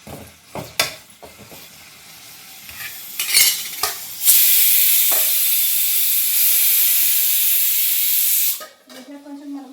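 Tomatoes and green chillies hit hot oil with a loud burst of sizzling that holds as a steady bright hiss for several seconds, preceded and followed by clinks and stirring scrapes.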